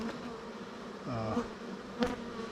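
Aggressive honey bees swarm around a beekeeper, a dense steady buzz close by with individual bees whining past the ear, rising and falling in pitch.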